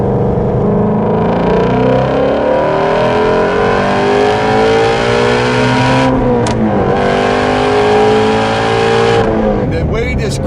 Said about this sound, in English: the way this car picks up speed, the smoothness of how this revs, the eagerness of how this revs